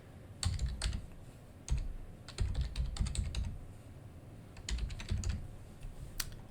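Typing a file name on a computer keyboard while setting up a Server 2019 work folder: a few quick clusters of crisp keystrokes with short pauses between them, close and fairly quiet, with no voices.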